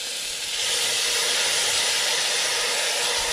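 Chopped tomatoes, crushed ginger and garlic sizzle in frying onions, a loud, continuous, dense hiss that swells slightly after the first half second and holds steady, close up with no voices.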